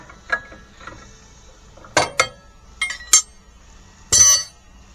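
New bolts being tightened with a wrench, giving sparse metallic clicks and ratcheting clinks in short separate bursts, close and fairly crisp against a quiet background.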